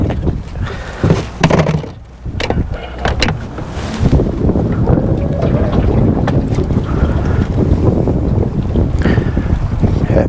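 Wind gusts outdoors while fishing from a boat, the low rumbling buffets growing louder and steadier after the first few seconds, mixed with faint knocks and splashy movement.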